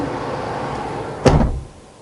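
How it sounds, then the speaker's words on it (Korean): A Renault QM5 SUV camper's car door shuts once with a solid, muffled thud over a steady background hum, followed by quiet. "제가 차 문을 한번 닫아 볼게요."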